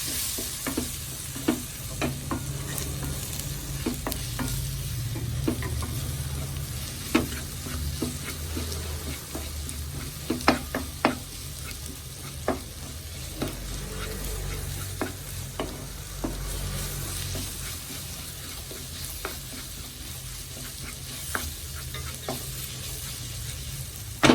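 Prawns fry in a pan for perattu as half a spoon of garam masala is stirred in, giving a steady close sizzle with frequent sharp spoon scrapes and clicks throughout.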